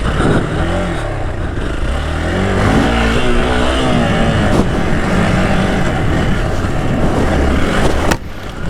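A Hero Xpulse 200 dirt bike revs hard and climbs in pitch as it rides at a dirt jump, the engine loud and close, then the noise drops away near the end.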